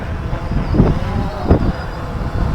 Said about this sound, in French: là il y a vraiment beaucoup de vent